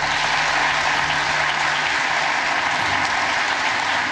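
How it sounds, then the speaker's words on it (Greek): Dense, sustained crowd applause in the US Congress chamber, loud and even throughout, a continuous wash of many hands clapping with no pauses. "Το πλήθος ξεσπά σε χειροκροτήματα."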